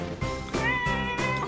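A cat meows in several drawn-out, tonal calls close by, with short pauses between them.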